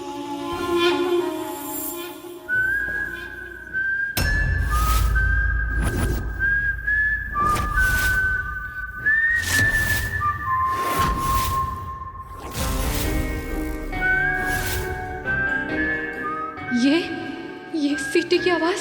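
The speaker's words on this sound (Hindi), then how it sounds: "ये सीटी की आवाज, बिल्कुल ऐसी आवाज" Long, clear whistled tones rise and hold in a wavering tune in a tense TV drama scene, the notes repeating over nearly twenty seconds against a backing of low dramatic music hits.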